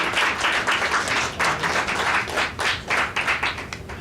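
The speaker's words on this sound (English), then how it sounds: "You can give her a round of applause." Audience applause at a women-in-audio music production career panel, a dense, steady burst of many hands clapping for about four seconds, fairly loud and close, with no talking over it.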